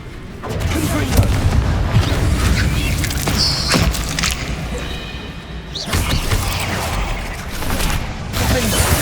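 Fire spell blasts from Hogwarts Legacy game combat in a cavern, heavy booming explosions and crashes repeating over several seconds amid dense, continuous battle noise, with a voice shouting spell names.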